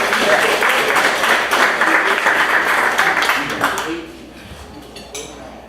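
Applause from a meeting audience for a guest: dense clapping fills the first four seconds, then thins and fades out quickly.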